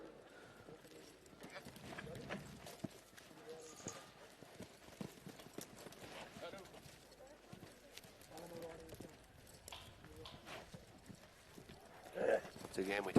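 A horse moves at a campdraft competition. Its hooves thud softly in an irregular rhythm under steady commentary and faint arena background.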